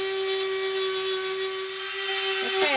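A Dremel rotary tool running at a steady high whine, loud and close, as it works on a plastic bucket, ending with a brief shift in pitch near the end.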